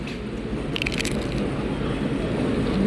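Crisp crunching as someone bites into a crispy pani puri, with a few sharp crackles early on over a steady chewing background.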